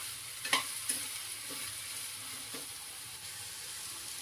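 Ridge gourd pieces stirred into a simmering egg curry, a steady frying sizzle and hiss with a few soft scrapes and knocks of a spoon against the pan.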